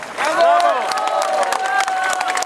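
Crowd applause and cheering at a street march in Warsaw, clapping mixed with shouting voices and a prominent raised voice over a loudspeaker, loud and close throughout.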